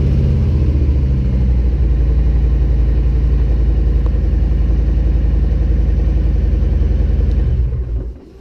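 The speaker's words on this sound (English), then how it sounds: "when you start the bike, the engine light will, that's when it will go off." A 2022 Harley-Davidson Street Bob 114 motorcycle engine idles close by with a loud, steady, throbbing rumble, then cuts off and fades out at the very end.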